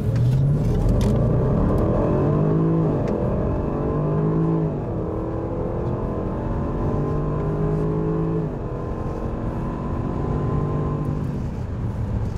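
A 2015 Range Rover Sport accelerates hard up to 100 mph, its engine droning steadily with rising gear sweeps and a shift near the midpoint, loud and continuous from inside the cabin with no talking.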